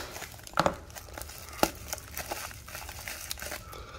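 Wrapping on a boxed vintage Waterman Ideal fountain pen crinkles and crackles as it is cut open, with a couple of sharper snaps near the start amid steady close-up rustling.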